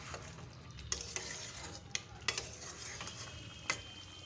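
Mutton and potatoes sizzle steadily in a pan while a utensil stirs them, with scattered metallic scrapes and clinks against the pan over a constant close frying hiss.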